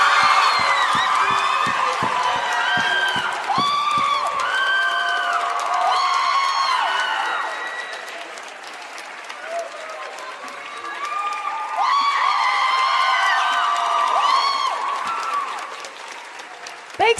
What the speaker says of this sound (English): It's a different kind of applause, I think.